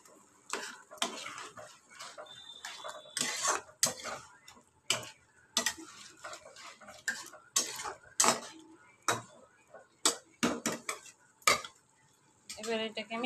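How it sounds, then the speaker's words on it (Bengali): Bottle gourd and potato curry with lentil dumplings and spices is stirred in a pan: a spatula scrapes and clinks against the metal in irregular, close strokes, some quick clusters, over a faint sizzle. "এবার এটাকে একটু নাড়াচাড়া করে"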